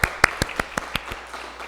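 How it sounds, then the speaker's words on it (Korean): Sparse rhythmic clapping at a Gangjin-eup church service celebrating birthdays, about seven distinct claps in steady beat, close and sharp, then fading into quiet room tone. "생일 말씀 분들에게 생일 축하의 박수 보내드리겠습니다"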